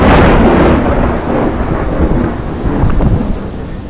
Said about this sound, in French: alors que l'orage s'abattait